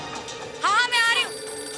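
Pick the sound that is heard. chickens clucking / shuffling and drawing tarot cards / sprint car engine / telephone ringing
telephone ringing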